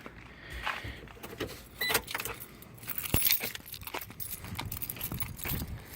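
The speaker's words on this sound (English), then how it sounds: "All right, got my keys." Car keys jangle and clink in several short bursts at close range, picked up before starting a 2002 Chevrolet Avalanche Z71 pickup; no talking.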